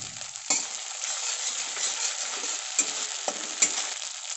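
Poppy seed paste being stirred into a spice mix frying in a pan: a soft continuous sizzle with several sharp scrapes and clinks of a utensil against the pan.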